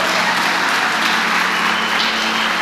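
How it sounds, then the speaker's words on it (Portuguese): A church congregation applauds loudly in a dense, sustained wash of clapping that fills the room evenly without breaks. "Você pode aplaudir Jesus"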